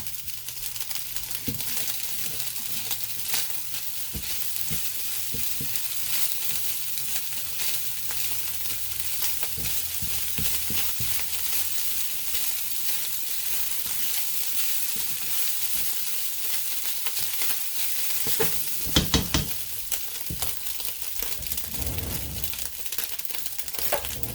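Egg fried rice sizzles and fries steadily in a pan for the whole stretch, a dense continuous crackle with occasional louder stirring scrapes and clatter near the end, close up and with no talking.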